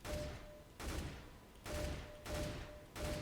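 M4 rifle fire in the video game CS:GO, rapid full-auto bursts in five evenly spaced volleys, each a dense crackling string of shots that trails off between bursts, moderately loud.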